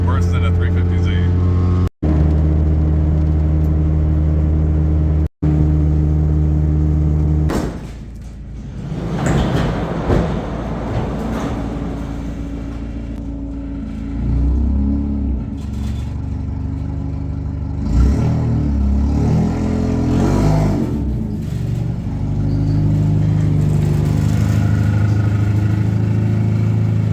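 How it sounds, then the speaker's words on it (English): An Acura Integra with a badly failing exhaust drives on a road trip, its loud raspy engine drone running throughout with revving swells, accompanied by bumps and rattles and voices talking over it. "I think this is the worst exhaust I've ever heard in my life."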